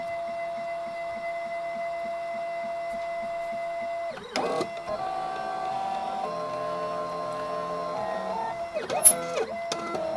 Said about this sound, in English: You can hear the steppers working with all that noise.